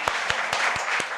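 Audience applause for a legislative aide at the close of a National Assembly forum on graduate training for school health teachers, a steady wash of clapping with a few sharper individual claps standing out.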